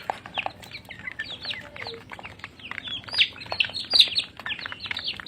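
Young chicks and hens cheep and cluck in a busy, overlapping chorus as the flock feeds near a duck, chirps rising and falling close by without a pause.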